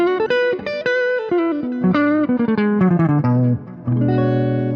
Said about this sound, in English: When I hit this, it will turn into a Les Paul neck pickup.